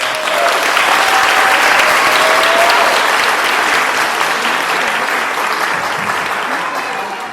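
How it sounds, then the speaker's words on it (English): A large audience at a community learning center graduation and awards ceremony gives a huge, sustained round of applause, loud and even, tapering slightly at the end. "So let's give them a huge round of applause"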